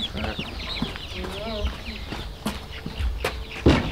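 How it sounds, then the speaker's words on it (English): Chickens on a farm in Eswatini cluck and chirp in short, overlapping calls close by, mixed with some handling noise and occasional voices. "Finally got the chicks."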